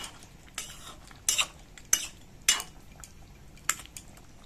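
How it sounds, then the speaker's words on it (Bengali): A spoon scrapes and clinks against a pot of thin Bengali fish curry with green banana, several sharp metallic knocks spaced irregularly over a quiet simmer, close and without talk. "দিয়ে এবার আমি নেড়ে চেড়ে দু মিনিট ফুটিয়ে নেবো"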